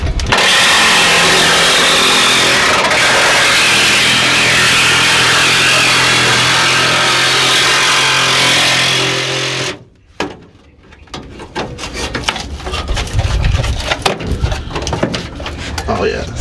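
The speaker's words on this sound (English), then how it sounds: "I gotta grind it down, see what it looks like" An angle grinder works on a rusted floor pan of a Nova car with a loud, sustained whine that winds down and stops, then people talk over clattering handling noises.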